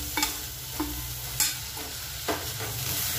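Tomatoes and masala roast in a pan for a dhaba-style cashew curry, a steady sizzle broken by four distinct spoon scrapes and stirs at regular intervals, close and alone.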